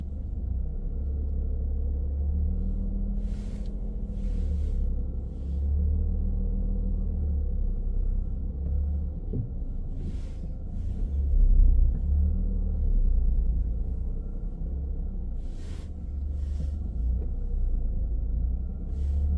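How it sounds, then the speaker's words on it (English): A car backs up slowly in a straight line for about two car lengths during a driving test in Greenford, with a steady low engine rumble close by and a few faint clicks and bumps above it. "You may reverse 2 car length in a straight line"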